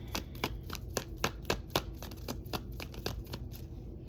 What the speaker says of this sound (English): give this a quick shuffle